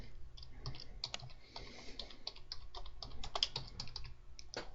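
Quiet typing on a computer keyboard while entering bookkeeping details: a rapid, irregular run of light key clicks, close and alone with no talk.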